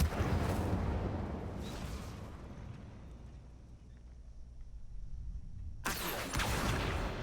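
Incendio fire spell cast in the game Hogwarts Legacy: a loud, rushing burst of flame that fades out over several seconds, followed by a sudden second blast near the end.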